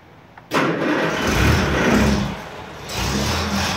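A Siam car engine starting after a clutch repair: a quick crank catches into a loud, close mid-pitched rumble that revs briefly and settles toward an idle.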